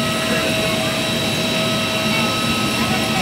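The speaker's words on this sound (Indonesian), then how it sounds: "Ada pesawat." A jet aircraft at an airport on a trip from Makassar to Jogja gives a loud, steady whining engine roar with sustained tones throughout, heard fairly close.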